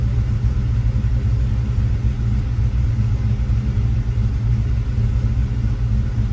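A 1995 Chevrolet Impala SS V8 idling high after starting, a loud, close, steady low rumble that holds without pause throughout.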